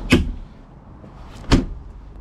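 The door of a small Citroen Ami electric car gives two distinct sharp thuds about a second and a half apart, close by, with faint mechanical sounds between them.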